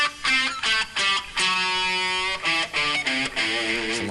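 An overdriven electric guitar plays a quick blues pentatonic lick with an added Dorian note, picked in a flowing run with a few sustained bends, loud and alone.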